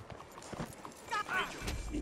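Horse sounds from the video game Red Dead Redemption 2: a short whinny-like call and light hoof clatter in a brief, busy two-second burst, with game voices mixed in.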